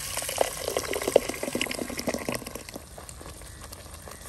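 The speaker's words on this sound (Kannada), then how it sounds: "ಸ್ವಲ್ಪ ನೀರು ಹಾಕ್ತಾ ಇದ್ದೀನಿ." Water poured into a pot of spicy Mangalorean fish curry on the stove: a steady, fairly faint liquid splash and gush that tapers off, with no talking.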